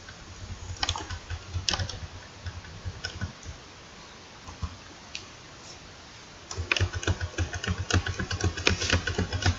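Fingers tap out code on a computer keyboard in quick irregular bursts of clicks, with a pause midway before the typing picks up again more densely.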